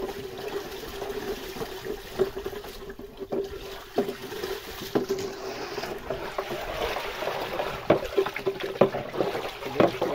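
Water and fertilizer are stirred by hand in a roughly 30-liter tub, giving soft, uneven sloshing and splashing up close, fairly quiet and irregular, with no talk.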